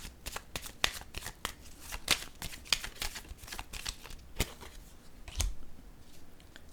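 Tarot cards handled and laid down one after another, giving a close, steady run of crisp card snaps and soft slaps, with no voices.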